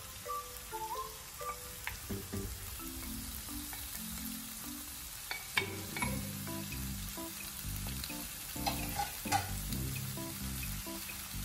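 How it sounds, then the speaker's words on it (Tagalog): Pork belly frying in a pan with pepper and other ingredients for creamy, spicy Bicol Express, sizzling steadily while a utensil stirs and scrapes in irregular bursts, close and fairly loud, with no talk. "Haluin lang natin ang ating karne sa ating mga ingredients."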